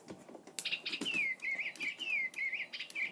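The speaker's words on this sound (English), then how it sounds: "I'm just gonna turn this one on and show you what they do." A Digi Birds electronic toy bird switched on, giving a few soft clicks and then a run of close, clear, bird-like chirps and sliding whistled tweets in quick succession, with no talking.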